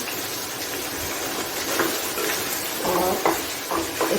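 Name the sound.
tomato cooking in a pan for chicken macaroni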